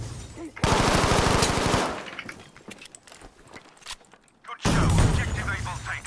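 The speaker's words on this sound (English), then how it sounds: "Launching grenade!" A grenade is launched in Battlefield V during a burst of heavy gunfire, with a dense, loud volley of shots and sharp impacts. A second heavy burst comes at the end, and a player speaks in between.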